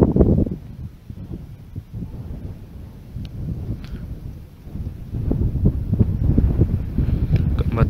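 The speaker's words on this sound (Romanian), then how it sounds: "Bate vântul că-i frig." Strong, cold wind buffets the microphone in heavy, uneven gusts in Panciu, Romania, a roaring low rumble that swells and dips throughout with no voices.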